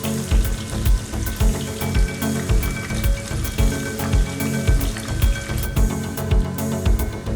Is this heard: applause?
no